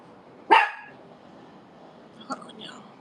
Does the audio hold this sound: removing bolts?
no